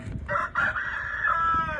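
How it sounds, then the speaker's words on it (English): A rooster crows loudly and close by in one long, drawn-out call lasting nearly two seconds, heard alone with no talking over it. "I'm going to move this rooster. Rooster, come on."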